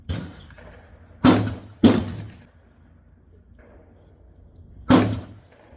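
Three pistol shots fired at a target 100 yards out on an outdoor range, two in quick succession then a pause before the third, each a sharp loud crack fading quickly, with no talk.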